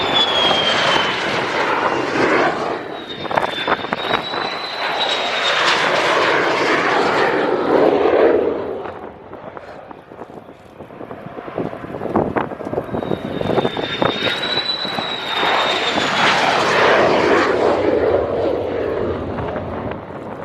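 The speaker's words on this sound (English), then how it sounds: "Got 4 F-16s approaching in a row." Four F-16 fighter jets approaching an airfield in a row during the Air Defender 23 exercise in northern Germany, two loud roaring passes that swell and fade with a rising whine, heavy and close.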